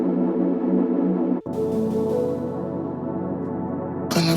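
A sustained hyperpop synth pad holds a bright, layered chord, with a brief dropout and a shift in texture partway through, ending on a brighter swell.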